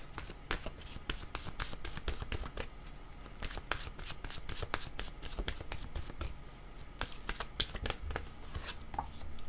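Oracle cards being shuffled, a rapid close run of crisp slapping and riffling card sounds, quiet and continuous.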